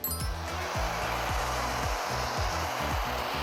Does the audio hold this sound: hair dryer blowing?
yes